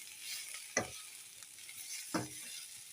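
Heated water splashes into a pan of frying soya chunks in two short pours, each a quick hissing burst over a steady background sizzle.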